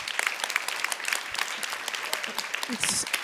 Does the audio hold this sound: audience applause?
yes